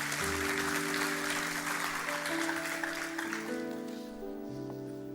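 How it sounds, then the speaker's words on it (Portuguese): Church congregation applauding during a sermon, a dense burst of clapping over sustained organ or keyboard chords that fades as the clapping dies away. "Dê o melhor aplauso que você pode dar ao Senhor."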